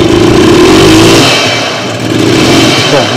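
A Peugeot engine revved as the throttle opens, a loud close droning rev that dips briefly in the middle and then rises again, with no talk over it.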